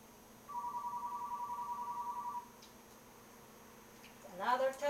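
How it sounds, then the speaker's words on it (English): A telephone rings in a kitchen during Italian cooking, one steady electronic ring lasting about two seconds, fairly clear, then quiet before a voice begins speaking at the end. "The phone is ringing."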